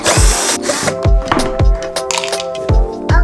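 Close, loud bursts of a power tool whir with deep thumps recurring roughly every half second, sounding like a drill driving into wood.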